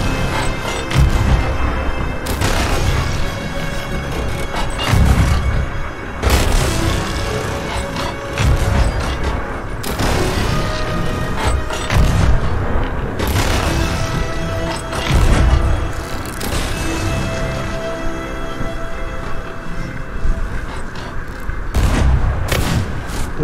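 Ship cannons firing at an enemy ship in the Sea of Thieves video game, loud booming blasts repeating every few seconds in heavy volleys with rumbling thuds between them.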